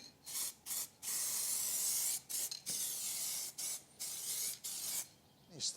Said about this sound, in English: So now I'm going to paint it.